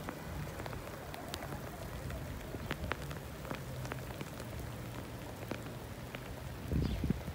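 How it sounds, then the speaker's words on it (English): Heavy rain in Madrid, Spain patters on a surface, dense and continuous with scattered sharper drops, fairly close, with no talking. "It's starting to pour."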